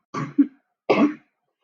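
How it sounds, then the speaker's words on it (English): Two short, harsh coughs close to the mic, the first with a quick double burst, followed by silence. "I am so sorry about the cough"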